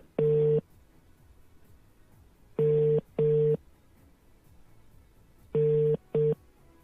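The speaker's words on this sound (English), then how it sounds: "Okay, it's ringing." Telephone ringback tone on a call placed from a Nigerian radio station studio, sounding as repeated paired electronic rings separated by silent pauses, clear and steady with no talk over it.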